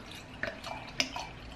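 Homebrewed rye saison beer pouring from a bottle, heard as a few faint drips and splashes in a quiet room with no talking.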